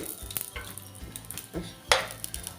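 Raw plantain slices frying in ghee in a pan, with a soft sizzle running under a few light clinks and scrapes as the pieces are turned over, then one brighter splashy hiss near the end.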